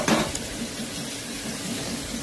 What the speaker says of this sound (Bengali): একটু ভালো করে ভেজে নিচ্ছি কোনো